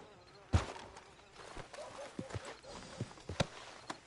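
Horse hooves clip-clop in Red Dead Redemption 2, with a few irregular hoof strikes, one louder thud and quieter steps following. A faint voice is heard in the background.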